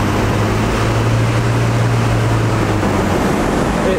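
A first-generation 12V Cummins diesel truck of unknown mileage with a large muffler, cruising down the road: a steady, loud low drone with road and wind roar from inside the cab, no voices.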